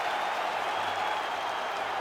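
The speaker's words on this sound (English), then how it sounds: "Stand and cheer, ladies and gentlemen." Arena crowd in the EA Sports UFC 5 video game applauding and cheering at the end of a fight, a steady dense roar of clapping and voices that holds evenly throughout.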